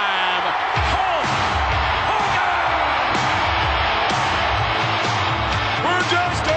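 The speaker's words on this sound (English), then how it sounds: "Listen to this crowd." A roaring wrestling arena crowd cheers and bellows for Hulk Hogan at a 1991 WWF event, a dense, loud, unbroken wall of voices with scattered whoops and shouts throughout.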